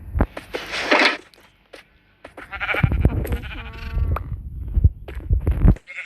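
Minecraft sheep bleat repeatedly at close range, several wavering bleats in quick succession within a busy game soundscape, with a brief spoken word at the end.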